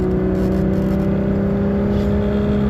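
Alfa Romeo Alfetta GTV 2.5 V6 engine running steadily, a loud, close, continuous hum with a smooth low drone and no revving, heard alone.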